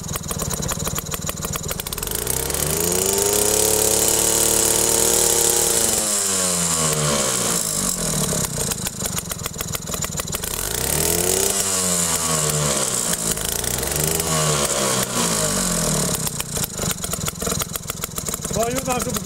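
Staub PPMS engine running, rising and falling in pitch as it is revved repeatedly in a steady, loud, close-up roar with several distinct acceleration sweeps.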